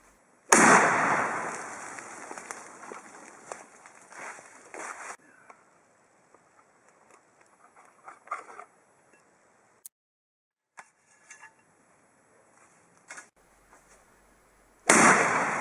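A homemade pipe shotgun fires a Winchester 2 3/4 inch 1 ounce slug, one sharp, close blast with a ringing decay, followed by quiet rustles and small knocks before another loud report at the very end.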